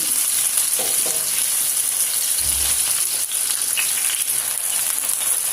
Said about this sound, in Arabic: الرولي تاعنا كيف نحمروه كيما راكم تشوفوا معايا